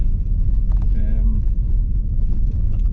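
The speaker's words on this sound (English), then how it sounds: "Turning my car around deliberately so I can point it back down the valley." A car's engine rumbles steadily and loudly up close while being turned around on a valley road near a steel bridge, with a brief higher tonal whine partway through.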